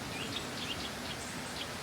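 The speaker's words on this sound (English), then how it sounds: "The birds are singing in the trees above me." Birds sing faintly in the trees overhead on an outdoor walk, with scattered high chirps over a soft, rustling background hiss.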